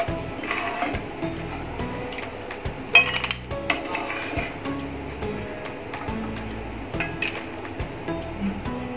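Fried peanuts being scooped out of a pan with a metal spoon, light clinks and scrapes repeating close by against a steady kitchen background.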